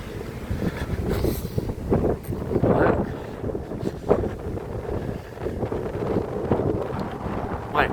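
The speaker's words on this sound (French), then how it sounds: "il y a un vent de dingue, aujourd'hui, ça doit être des rafales à 80 km/h" Strong gusty wind at the beach in Sanary-sur-Mer buffets the microphone in rough, roaring surges that rise and fall, loud and close, with a faint voice briefly under it.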